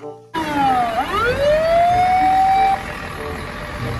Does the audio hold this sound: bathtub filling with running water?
no